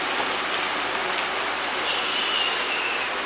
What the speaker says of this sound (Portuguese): Olha o barulho da chuva, gente.